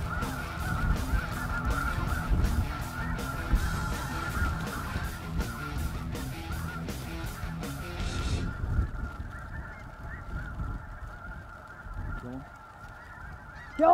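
Snow geese honk in a loud, dense chorus during a Michigan snow goose hunt on a snowy day. The calling is continuous and overlapping, then thins to fainter scattered honks after about eight seconds.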